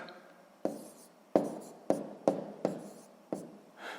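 Numbers are written by hand on paper, heard as about seven short, crisp pen strokes spaced irregularly and close up, with quiet pauses between them and no voices.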